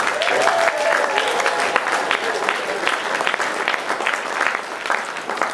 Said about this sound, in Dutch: als 1e nog een hartelijk applaus voor onze grote winnaars